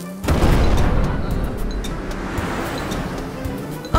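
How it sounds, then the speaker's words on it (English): A cartoon volcano erupting with a loud, sustained rumbling roar and crashing boom that fills the whole stretch before cutting off abruptly. "I think the volcano is erupting!"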